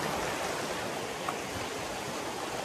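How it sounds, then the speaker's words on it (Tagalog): Strong waves wash against the shore in a continuous, dense roar of surf, steady and moderately loud, with no voices over it. "malakas din yung alon dito"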